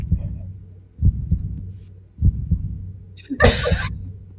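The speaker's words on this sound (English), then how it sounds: "It is a thundering, pounding heartbeat." A thundering, pounding heartbeat sound effect in paired thumps, loud and close, running through most of the stretch before a brief hissing burst near the end.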